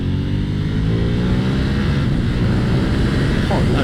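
A Ducati Panigale V4S superbike, 215 horsepower and 195 kg, roars under hard acceleration in one loud, continuous engine and wind blast that never lets up.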